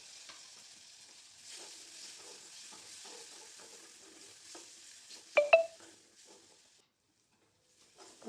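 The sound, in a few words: tomato stirred into frying vegetables in pan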